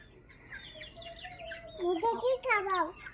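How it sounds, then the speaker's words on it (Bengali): Hens clucking softly as paddy is scattered for them, several short murmuring calls rising and falling close by, mixed with a voice. "মুরগিকে খাওয়াবো,"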